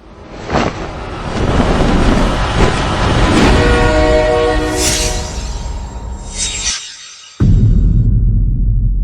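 Train running as a drama sound effect: a loud rumbling rush with a sustained horn or whistle blast, an abrupt cutoff, then a heavy low rumble.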